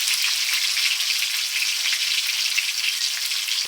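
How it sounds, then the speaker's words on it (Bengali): Onion and potato sautéing in a pan make a loud, steady, bright sizzle of frying with faint stirring scrapes and no voices, ending in a short knock. "আলুর সাথে পেঁয়াজটা কষে নিচ্ছি"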